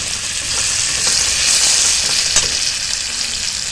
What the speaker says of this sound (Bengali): মশলার সঙ্গে টমেটোটাকে ভালোভাবে কষে নিলাম, আর টমেটোটাও মজে গেছে।